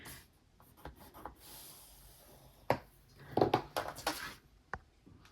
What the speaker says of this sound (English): So we're going to score this piece of paper on 3 sides